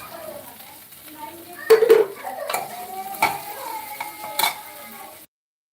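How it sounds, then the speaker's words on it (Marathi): Green beans with soaked cashews frying in a pan, with a spatula clinking and scraping against the metal in a few sharp strikes over a faint sizzle, close by. "आणि हे काजू आहेत मी असे भिजवून घेतलेले, ते पण यात टाकायचं फ्राय करायला."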